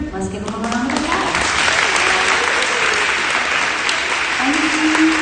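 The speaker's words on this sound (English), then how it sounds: "let's give them a round of applause." Audience at a middle school awards ceremony breaks into steady, loud applause that fills the whole stretch, with a few voices and cheers mixed in among the clapping.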